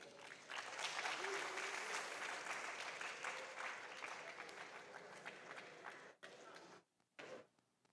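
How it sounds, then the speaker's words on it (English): A crowd claps at a national junior science and maths quiz, with sustained, full applause that thins and breaks off in a few ragged bursts near the end. "Please keep clapping."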